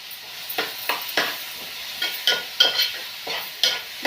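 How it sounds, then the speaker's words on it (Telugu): Tomato curry cooking in a pan in a home kitchen, with a spoon stirring it in repeated short scraping strokes over a steady low sizzle of frying, close and fairly quiet, with no voices. "ఇదైతే కర్రీ అయితే వండుతున్న ఫ్రెండ్స్. టమాటా కర్రీ."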